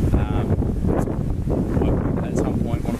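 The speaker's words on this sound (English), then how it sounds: "Apologies for the wind, it's a bit windy out here" Heavy outdoor wind buffets the microphone in a steady low rumble with gusty swells, while someone speaks over it.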